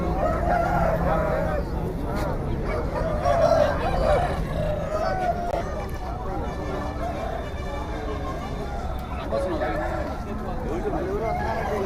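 A rooster and hen cluck and crow amid a busy hubbub of voices and crowd noise at a lively outdoor country-chicken market.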